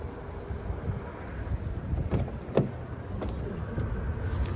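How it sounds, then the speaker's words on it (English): Power running boards on a long-wheelbase Lincoln Navigator L deploy with a steady electric motor whir under broad cabin rumble, with a few brief clicks partway through. "Power running boards."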